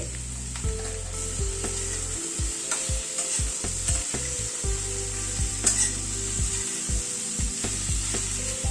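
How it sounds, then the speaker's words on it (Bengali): Pointed gourd frying in a pan over a medium flame, a steady sizzle broken by repeated scraping and stirring knocks of a spatula against the pan, close and fairly loud with no talking. "পটলটা আর একটু ভাজা ভাজা হবে"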